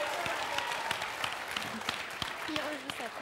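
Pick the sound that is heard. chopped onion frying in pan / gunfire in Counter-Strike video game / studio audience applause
studio audience applause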